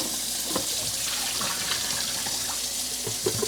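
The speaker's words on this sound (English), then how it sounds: "put some soap in there, put some water in it, shake it around a couple times." Water and soap sloshing inside the tank of a BISSELL Little Green Multi-Purpose carpet cleaner as it is filled and shaken, a steady close liquid rush with small splashes and knocks throughout.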